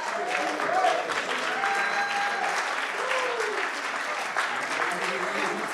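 Applause at a sales leader awards ceremony, a steady round of clapping from the audience sustained at moderate loudness throughout, with a voice briefly over it.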